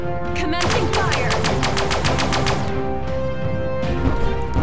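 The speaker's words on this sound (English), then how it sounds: "Pulse guns. Fire. Commencing fire." Pulse guns fire in the space video game Sunrider: First Arrival, a rapid train of about a dozen bright, evenly spaced zapping shots over a steady electronic hum and music, loud and close.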